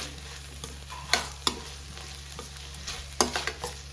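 Onions sautéing until brown in a pan for a Tamil chicken curry, a quiet steady sizzle broken by a few sharp clinks and scrapes of a stirring spoon, close by with no talking.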